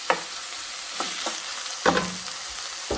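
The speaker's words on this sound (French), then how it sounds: "je fais revenir tout ça tranquillement" A filling with wild oregano sautéing in a pan, a steady close sizzle broken by a few scraping stirs of a utensil against the pan.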